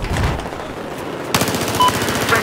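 Automatic gunfire from the Battlefield 4 video game on the Zavod 311 map in Domination mode, with rapid machine-gun bursts running loud and steady, growing denser and sharper partway through.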